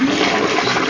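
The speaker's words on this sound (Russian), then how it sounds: "Как там булькает." Homemade moonshine gurgles and rushes loudly and steadily as liquid pours, a dense, continuous bubbling close at hand with no pause.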